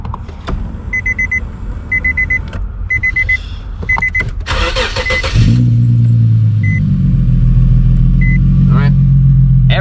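A 2008 Infiniti G35 starts up: electronic chimes and clicks come first, then the engine catches with a sharp crank and settles into a steady, loud idle rumble close by.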